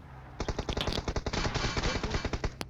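Rapid automatic gunfire from PUBG Mobile, a fast burst of sharp shots in quick succession, loud and close, ending with a single isolated crack.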